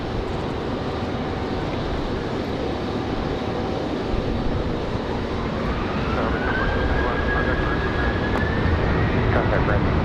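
A Delta airliner landing on runway 5 left at Raleigh-Durham airport gives a broad, steady jet roar, with a rising engine whine toward the end and radio voices heard over it.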